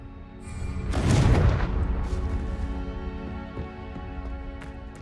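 A Confringo blasting spell bursts in the Hogwarts Legacy video game, a loud booming explosion swelling at about one second and then rumbling off into a long, noisy tail under steady background game sound.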